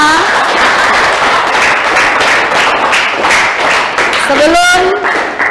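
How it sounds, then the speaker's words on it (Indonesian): Classroom of children clapping together, a dense steady patter of many hands close by, with young voices calling out over it near the end. "Tepuk tangan untuk kita semua"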